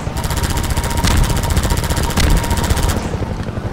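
Rapid machine-gun fire aimed at a helicopter in the video game Half-Life 2, a dense, steady stream of shots running loud and close for about three seconds before cutting off, with rotor noise underneath.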